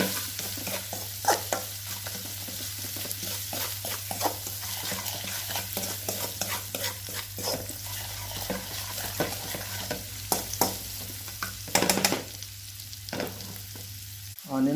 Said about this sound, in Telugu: ఆనియన్స్ బాగా ఫ్రై అయ్యాయండి.